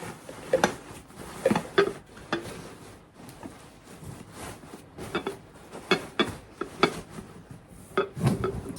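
A lid goes onto a pot in a home kitchen while yogurt is being made, with several light metallic clanks and clinks in an irregular rhythm, close by.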